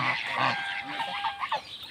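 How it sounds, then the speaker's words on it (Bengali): Domestic geese by a riverside honk in short nasal calls that overlap with a voice talking, the sound moderately close and busy over two seconds. "মনে হয় এখানে রাজহাঁসের অভয় আশ্রম দেখেন"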